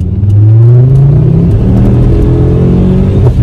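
A Ford Focus ST with a 2.5-litre five-cylinder engine revs hard in second gear, a loud, close, continuous rumble whose pitch climbs, dips at a shift, then climbs again.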